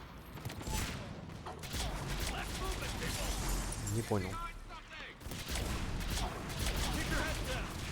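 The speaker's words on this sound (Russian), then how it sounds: "Какими-то электролучами стреляет." Rapid bursts of homing electric-beam weapon fire in Mass Effect 3 crackle and rumble continuously, with a brief spoken remark heard over the shooting.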